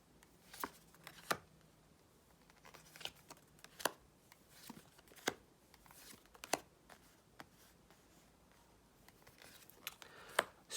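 Tarot cards shuffled by hand during a reading, with soft scattered riffles and taps, quiet and close, at irregular intervals with no talking.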